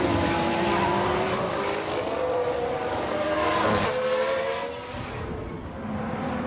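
Race cars from F1 Manager 22 in a 1993-era race, engines whining and rising in pitch as they pass close, with skidding tire noise from a lockup and a continuous roar throughout.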